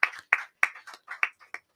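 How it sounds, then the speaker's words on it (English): Audience clapping at a live singing-competition auction event, heard as a short, sparse burst of about seven distinct, fairly loud claps in an uneven rhythm rather than a full roaring ovation. "A round of applause for them."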